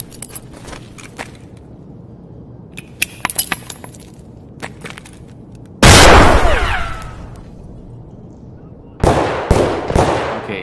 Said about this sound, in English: throw F1 grenade.